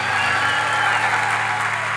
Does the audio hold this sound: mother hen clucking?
no